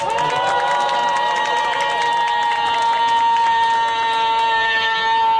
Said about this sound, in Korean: 추우시니까 다시 한번 우리 이명렬 지부장님을 위해서 환호성과 박수를 보내주시기 바랍니다.